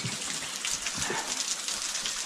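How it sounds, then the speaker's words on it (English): Water from a waterfall inside a cave rushes steadily as a dense, continuous gush, fairly close and loud, with no talk over it. "Oh, that's a waterfall right there."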